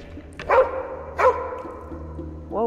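A dog barks in a hidden-object adventure game, Nightmares From the Deep: Davy Jones, set in the mines: two clear barks with a short whine after, close and loud against a low ambient music bed.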